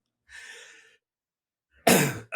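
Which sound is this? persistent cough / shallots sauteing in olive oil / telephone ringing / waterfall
persistent cough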